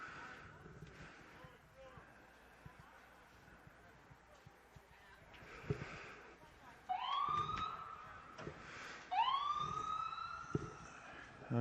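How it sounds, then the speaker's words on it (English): An ambulance siren wails at a youth freshman football game, starting faintly and rising into loud upward sweeps in the second half, over crowd noise and a commentator's voice. "Oh, they called the ambulance."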